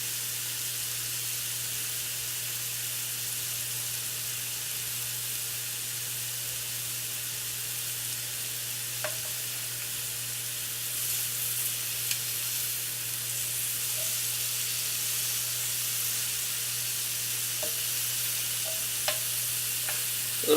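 Shrimp frying in a pan, a constant close hiss of sizzling oil with occasional light clicks and taps of tongs turning the pieces, steady throughout with no talk.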